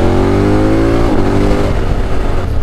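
A 2021 KTM Super Adventure S fitted with an Arrow Sonora exhaust revs up and then drops back, its loud, close engine holding a steady throaty drone for a few seconds with no voices.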